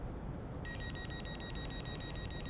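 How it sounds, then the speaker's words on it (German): Door warning beeping aboard a Giruno train in Train Simulator Classic: a steady, high, repeating electronic beep starts after a brief pause and continues over a low hum of cab noise. "Fängt es dann auch entsprechend authentisch an zu piepsen."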